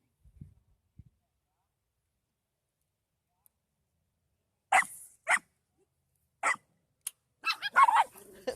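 Dogs outdoors barking in a few short, separate bursts after a long quiet stretch, moderately close, with a quicker cluster of barks near the end.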